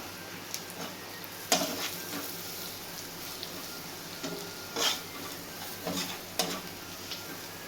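Spices and masala for a chapathi aloo curry stirred in a frying pan, faint sizzling under a scattering of louder scraping strokes and spoon knocks at uneven intervals.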